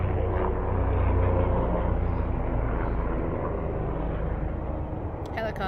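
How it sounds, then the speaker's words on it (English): A helicopter's deep rumbling engine drones loudly overhead, holding steady and then slowly fading. "That was a helicopter."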